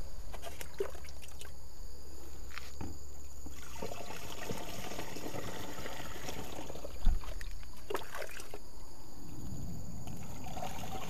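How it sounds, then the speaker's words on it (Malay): Water poured into a homemade organic spray mixture containing EM4, a trickling, gurgling splash of liquid with a brief knock midway, close and alone. "Saya nak masukkan air sikit dulu."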